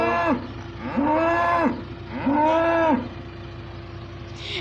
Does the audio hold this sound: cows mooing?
yes